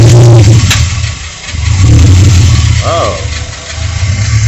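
V8 engine in a K10 4x4 pickup with an LS swap and a Dual X-Pipe Flowmaster 40 series exhaust rumbles and revs in swells close by, with a short spoken exclamation over it.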